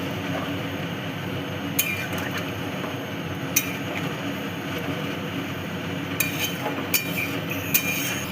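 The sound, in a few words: stirring chicken and potato curry in a pot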